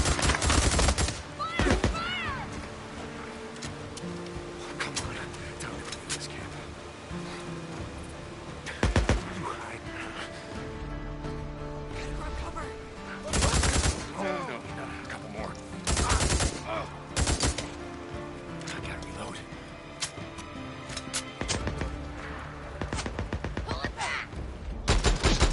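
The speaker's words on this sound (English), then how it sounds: "those bullets sound like they're coming from the left, which means, of course, that they are actually coming from the right" Rapid bursts of gunfire and bullets crack through a firefight in the video game Days Gone, with loud volleys clustered around the middle and end of a tense, rumbling background.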